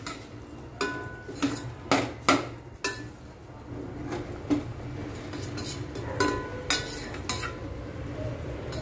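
Spoon stirring chickpeas in a metal pot, a series of clinks and scrapes in irregular bursts, close and moderately loud with a low background hum.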